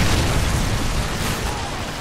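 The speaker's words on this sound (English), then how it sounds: "Friendly Predator missile inbound." A Predator missile strike in Call of Duty: Modern Warfare 3 lands as a heavy booming explosion, loud and immediate, with a dense rumbling blast that slowly fades over two seconds.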